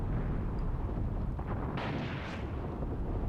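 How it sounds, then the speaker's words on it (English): Artillery fire in the war game Graviteam Tactics, a low rumbling barrage with a couple of muffled distant blasts rolling over a constant heavy battlefield roar. "we've got so much artillery firing now"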